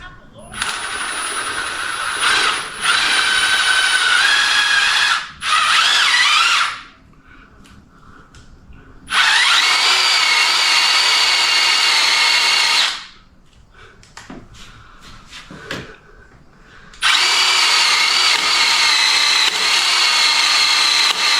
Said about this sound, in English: So we're going to keep on drilling from there.